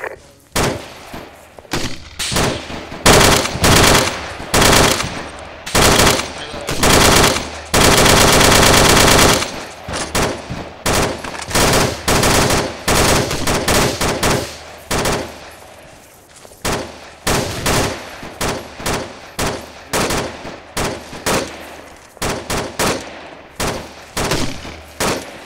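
Machine gun laying down suppressing fire in a military video game, loud sustained bursts and rattling volleys with one long continuous stretch, close and dominant with no talk.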